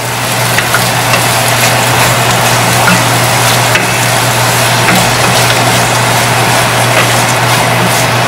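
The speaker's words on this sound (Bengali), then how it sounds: "ডালটাকে একটু মশলার সাথে ভেজে নিচ্ছি।" Loud, constant sizzle of red lentils frying with spices in a pan fills the clip without a break, a dense hiss over a low steady hum and no voices.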